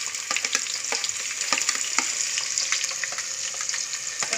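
Ginger-garlic paste, onion, curry leaves and tomato fry in hot oil with a loud, close, continuous sizzle and spitting crackles, no voices.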